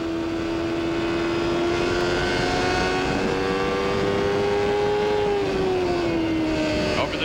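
IndyCar race cars at the 1994 Nazareth Grand Prix roar steadily, a sustained loud engine drone whose pitch slowly rises and then drops, heard continuously without pause.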